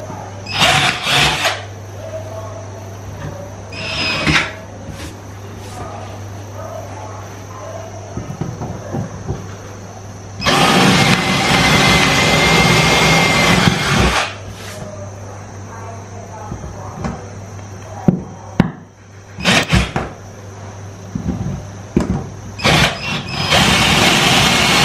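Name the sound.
power drill drilling a hole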